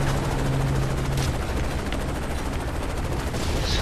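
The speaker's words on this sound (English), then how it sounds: "Oh my gosh, they're still shooting at me." Sustained gunfire in the Call of Duty: Modern Warfare 3 campaign, a dense continuous wash of shots and explosions filling the whole stretch at steady, loud level with no voice on top.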